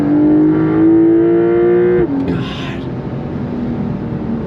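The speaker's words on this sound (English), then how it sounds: "you're gonna hear more of that glorious flat six twin turbocharged engine" A Porsche 911 GTS's twin-turbo flat-six pulls hard in second gear from about 4,500 RPM. A loud, rising engine note climbs to a peak, then drops sharply as the revs fall and settles into a lower rumble.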